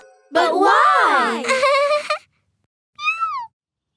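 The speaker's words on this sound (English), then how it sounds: "It is a little cat!" An animated cartoon cat meowing: a long, loud, drawn-out meow followed after a pause by a shorter, higher meow, each close and clear.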